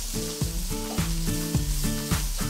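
Pork sizzles steadily in a hot pan as its moisture cooks off, a constant crackling hiss with soft rhythmic clinks of stirring.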